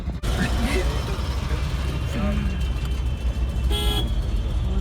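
Busy Delhi street traffic before dawn, with a constant rumble of engines and a loud car horn honking near the end, while a voice speaks briefly close by.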